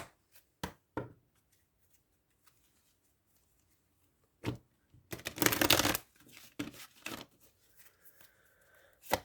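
Tarot cards are shuffled and drawn in several short bursts of riffling and slapping, with a longer dense flurry midway and scattered card taps between quiet gaps, close and fairly loud.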